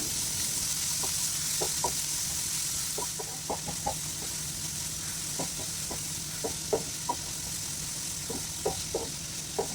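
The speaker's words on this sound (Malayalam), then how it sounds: "ഇനി സവാള പത്ത് മിനിറ്റ് നന്നായിട്ടൊന്ന് വഴറ്റിയെടുക്കണം" Sliced onions sautéing in a pan over medium heat for a prawn curry, a constant low sizzle broken by repeated light ticks and taps of stirring, close by and without talk.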